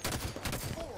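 Rapid gunfire from a battle rifle in the video game Halo 5: Guardians, a dense close burst of shots over a busy match soundscape, with a brief rising whistle near the end.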